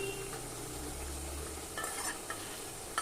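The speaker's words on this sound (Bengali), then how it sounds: "আদা জিরা বাটাটাকে এভাবে একটু নেড়ে চেড়ে মিশিয়ে দিব" Ginger-cumin paste is stirred in a hot pan over high flame for a vegetarian bottle gourd greens dish. Steady frying hiss runs throughout, with a low rumble and a few brief scraping strokes near the end.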